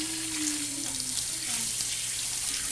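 A faucet runs steadily while hands are rinsed under it at a sink, a close, continuous rushing stream with faint shifting splashes and no voices.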